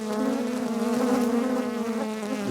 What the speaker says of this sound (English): The bees are all over my microphone.